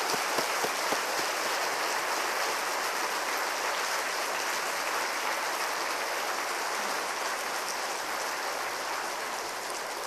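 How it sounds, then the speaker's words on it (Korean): Church congregation at a Korean revival meeting applauding to welcome the pastor, a dense, even wash of clapping that holds steady and fairly distant throughout. "우리 목사님 나오실 때 뜨거운 박수로 환영하겠습니다."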